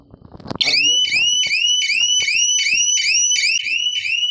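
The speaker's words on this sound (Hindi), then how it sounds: "ये जैसे ही उठाएगा तो ये सायरन बजाने लगेगा" A GSM shutter security system siren sounds loudly and continuously after a brief rustle, with a repeating rising electronic wail cycling about every half second over low background noise.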